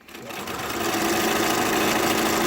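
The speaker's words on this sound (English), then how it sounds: "I am ready to keep sewing." A sewing machine speeds up and then hums along at a fast, steady stitch, close and loud, stitching fabric face masks.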